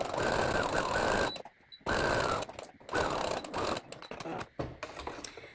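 A sewing machine stitches a cloth mask in rapid buzzing bursts, running steadily then stopping and starting in short runs toward the end, close and clear.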